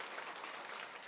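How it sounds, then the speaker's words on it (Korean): A church congregation applauds newly baptized members: steady, even clapping from many hands fills the room at a soft, distant level, with no speech over it. "큰 박수로 축하해 주시기 바랍니다"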